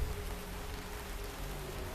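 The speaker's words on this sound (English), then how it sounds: "as you hear, it's drizzling right now." Light evening drizzle falling outdoors during a passing cyclone, a soft, steady hiss of rain without distinct drops, faint and continuous.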